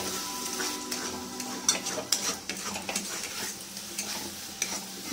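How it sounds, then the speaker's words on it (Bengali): Soybean and potato curry with spices being stirred and fried in a pan, a spoon scraping and clinking against the metal in irregular strokes over a steady sizzle, close and fairly loud with no talk. "একটু ভালো করে কষিয়ে নেবো।"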